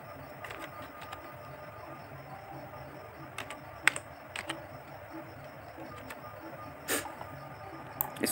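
Scattered keystrokes and clicks on a computer keyboard while working in Excel, with sparse, irregular taps over a low steady hum.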